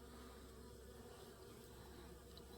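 An old honeybee in fall buzzing close by, a steady, continuous hum that stays even from start to finish, faint, with no voices.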